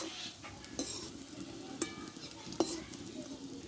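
Cauliflower fritters fry in hot oil with a soft, steady sizzle, and a few sharp clinks of a utensil against the pan stand out now and then.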